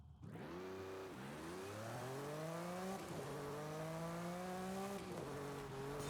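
A street-legal rally car launches hard from a standstill. Its engine revs climb steeply through three quick gear changes, loud and continuous, with a rising whine over a rough exhaust note.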